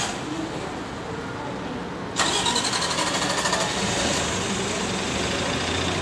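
Nabi CNG transit bus at an airport terminal, stalled and struggling, its engine cranking and catching about two seconds in, then running rough and loud with an uneven low rumble, with talk nearby.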